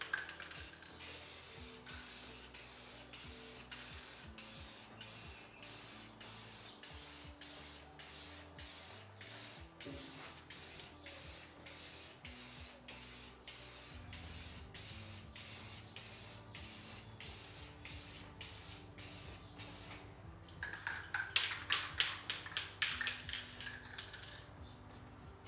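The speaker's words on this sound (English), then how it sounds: "I'm about to spray some Rust-Oleum on here" Rust-Oleum spray paint hisses from an aerosol can in a long run of short, rhythmic bursts, each spray pulse close and steady, ending in a louder, harsher blast near the end.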